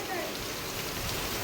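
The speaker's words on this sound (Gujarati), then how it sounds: "આજ આવી ગયો વરસાદ" Steady rain pours down outside during a Gujarati monsoon downpour in Siddhpur, a dense continuous hiss of drops on surfaces, close and even throughout with no talk.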